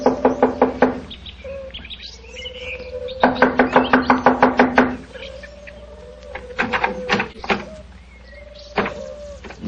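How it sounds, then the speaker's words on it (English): Knocking on a wooden door in a radio drama: two bursts of rapid, loud raps, the first brief and the second longer, followed by a few scattered softer taps and creaks, with bird chirps in the background. "I'll knock on the door."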